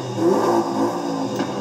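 A 4-liter flat-six Porsche engine with turbos and a maxed intake and fuel system, in Forza Horizon 5, revs hard in a steady, loud burst that holds for over a second with a slight rising tone and no voices.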